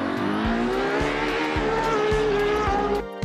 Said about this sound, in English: A naturally aspirated V12.